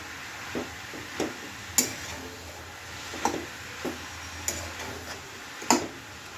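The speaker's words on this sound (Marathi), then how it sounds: "आता आपण तो एकसारखा हलवून घेऊया." Grated carrot is stirred in a wok for gajar halwa, the spatula striking and scraping the pan in regular taps about every half second over a faint background hiss, with no talking.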